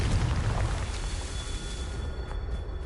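A Confringo spell explosion in Hogwarts Legacy, heard as a loud, sustained rumbling roar that fills the whole clip with dense low-end boom and no talking.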